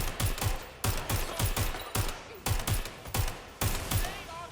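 Gunfire rings out against a turret in the Watch Dogs video game, with heavy bursts of shots repeating in a steady, loud rhythm and brief gaps between volleys.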